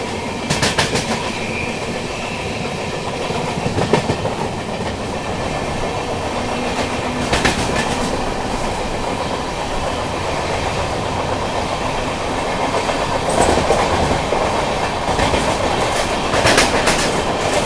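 The Tamil Nadu Express runs from New Delhi to Chennai through the early morning near Chennai, heard from inside the coach. A loud, steady rumble carries rhythmic clickety-clack bursts from the wheels crossing rail joints, repeating every few seconds.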